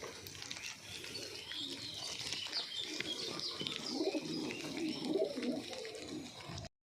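Shialkuti chorus pigeons, including a young bird, coo softly and continuously in a quiet loft, with faint chirps and a flutter of movement, no one talking.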